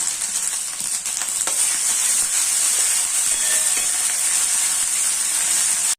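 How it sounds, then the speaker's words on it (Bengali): Garlic paste hits a hot pan for a Bengali fish chop recipe, giving a steady, bright sizzle and hiss with a few faint clinks, close and continuous with no voices. "রসুন বাটাটা দেবো।"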